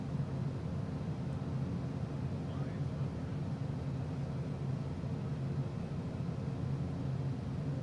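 Airliner engines throttled back to about 27 percent, close to idle, in Microsoft Flight Simulator 2024: a steady low drone with broadband hiss, constant and unchanging throughout.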